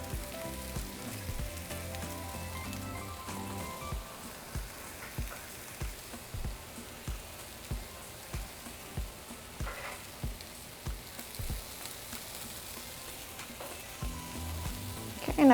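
Corn tortillas sizzle on a hot griddle, topped with queso Oaxaca for mulitas al pastor, with a steady crackling fry broken by a regular run of soft tapping knocks partway through.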